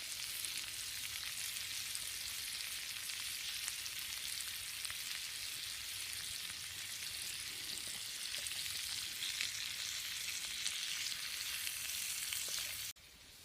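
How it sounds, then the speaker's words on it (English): Onions fry in a little too much oil in a 1940s steel Boy Scout mess kit, hissing and crackling in a dense, continuous sizzle close by that cuts off abruptly near the end. "I think our onions are pretty well caramelized. I got a little bit too much oil in there"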